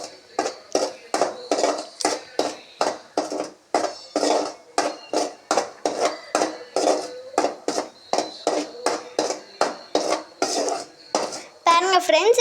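Sugar candy mixture being stirred in a pan, a fast regular series of metal spoon scrapes and clinks against the pan, close and loud and continuing without pause, with no voices.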